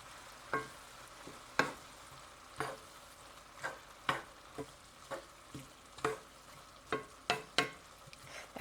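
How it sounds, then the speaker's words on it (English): Diced tomatoes stirred into frying cabbage and sausage in a single pan. A quiet, steady sizzle runs beneath about a dozen evenly spaced spoon scrapes and taps, each one short and close, with no one speaking. "I'm going to add the diced tomatoes and stir those in really good"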